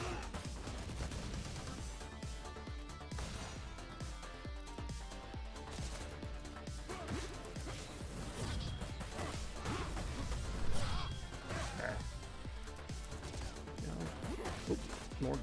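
Rapid gunfire erupts in the Streets of Rage 4 video game on Nightmare Mode, a dense, continuous clatter of shots and crashing impacts layered over game music for the full stretch, with no talking.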